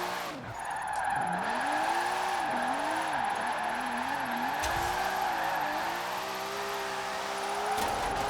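In Forza Horizon 4, a drift car slides sideways with its rear wheels spinning, its engine note swooping up and down under a continuous tire skid, loud and close throughout.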